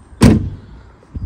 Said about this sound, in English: so shut the window, shut the door even